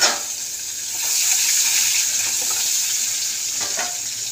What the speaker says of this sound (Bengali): তো পেঁয়াজটা একটু ভাজা ভাজা হয়ে যায়।